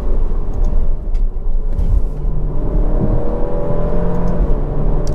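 An Alfa Romeo Giulia Q4 Competizione accelerates, its engine giving a loud, close, steady low rumble and whirring drone with no talking.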